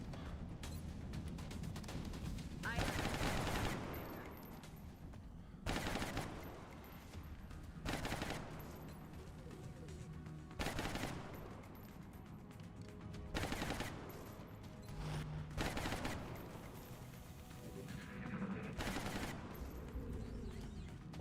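Gunfire in the turn-based strategy game XCOM Long War, a run of sharp shots and bursts spread across the scene, medium loud, with no talking.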